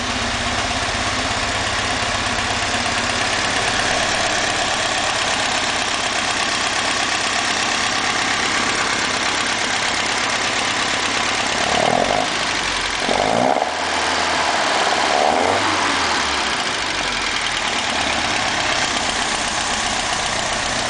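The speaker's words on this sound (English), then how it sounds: "As you can see, the engine revs quite smoothly." A 1977 Alfa Romeo Spider S2 engine idles steadily for a long stretch, then revs up smoothly two or three times before dropping back to idle.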